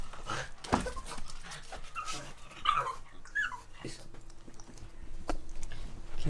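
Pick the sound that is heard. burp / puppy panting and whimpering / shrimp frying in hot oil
puppy panting and whimpering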